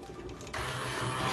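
A blender whirs as it mixes condiments for a Cameroonian yellow soup (taro sauce jaune) eaten with achu. The motor noise swells after a brief pause into a steady, close, buzzing roar.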